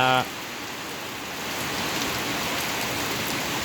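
Heavy rain falls steadily during a storm in a rural setting, a dense, even patter that stays constant throughout, with a brief voice cut off at the very start.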